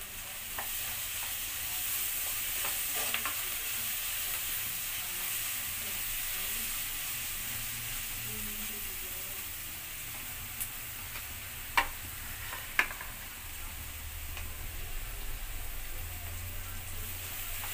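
Curry leaves frying in a pan give a steady soft sizzle and hiss throughout, with a few sharp pops and crackles near the end and faint clinks of stirring.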